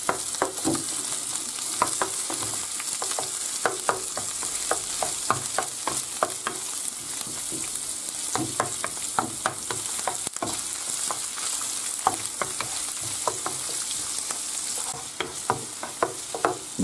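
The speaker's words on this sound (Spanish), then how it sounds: "echamos las gambas y las seguimos rehogando" Shrimp sautéing in a pan for a spaghetti sauce, a steady sizzle and crackle of frying with repeated stirring scrapes, close and alone with no talk.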